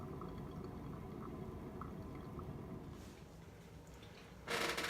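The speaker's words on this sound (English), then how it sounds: "Making some pour over." Hot water poured slowly over ground coffee for a pour-over brew, a soft continuous trickle and drip that shifts near the end into a brief brighter gush, quiet and with no speech.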